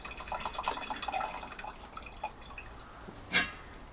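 Liquid dripping and trickling as a grain bag of malt drains into a stock pot during a home brew, with scattered drips through the clip and a brief louder splash near the end.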